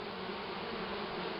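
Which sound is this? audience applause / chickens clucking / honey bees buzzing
honey bees buzzing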